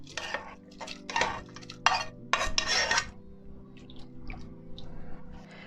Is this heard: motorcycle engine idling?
no